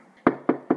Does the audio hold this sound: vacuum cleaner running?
no